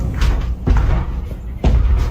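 Heavy, loud thuds strike a door at close range, three dull bangs spaced irregularly over about two seconds with a low rumble between them.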